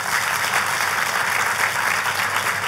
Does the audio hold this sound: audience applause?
yes